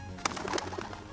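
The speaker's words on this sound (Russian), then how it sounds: "Откуда у него тут голубь?" A pigeon coos in a VR video game, a soft, throaty burbling call lasting under a second over a low background hum, with no talking.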